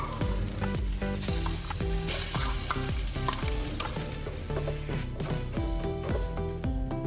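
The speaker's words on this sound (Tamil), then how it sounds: "இதை சேர்த்துட்டு லைட்டாக வதக்கி விடுங்க அந்த நெய்யில்." Grated carrot, coconut and cashews sauté in ghee, a steady sizzle under rhythmic scraping and clanking of a spoon against the pan, close and continuous with no talking.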